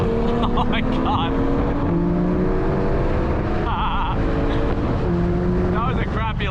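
A car launches hard, its engine loud and close as revs climb through gear changes, heavy wind buffeting the microphone throughout.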